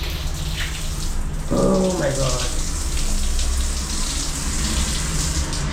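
A tap runs steadily in a house in Mombasa, Kenya, with a constant broadband water rush filling the whole clip while a voice briefly exclaims over it.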